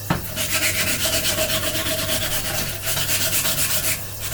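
Rhythmic back-and-forth rasping of wet sandpaper over the glued seams of a 3D-printed katana sheath, a close, steady run of strokes with no talking.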